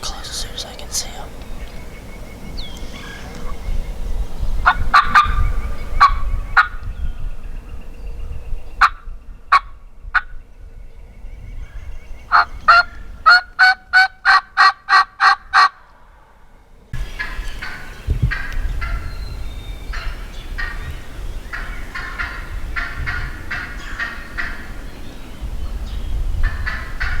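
Wild turkeys gobble in a rapid burst of repeated notes at mid distance, several calls spread through the outdoor scene, with faint whispering nearby between them.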